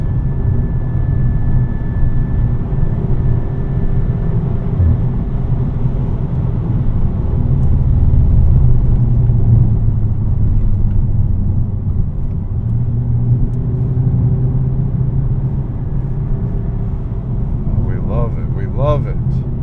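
Inside a VW Mk6 Golf GTI with DSG gearbox while driving, a steady low road rumble and engine drone hold loud and constant, with a brief burst of chirpy sounds near the end.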